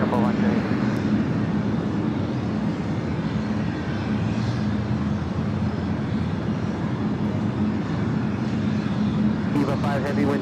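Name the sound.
Boeing 777-300ER jet airliner at LAX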